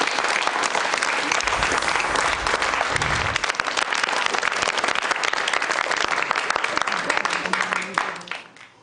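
Studio audience at a Georgian late-night talk show breaking into loud, sustained applause, a dense wash of many hands clapping that holds steady for several seconds and then tapers off.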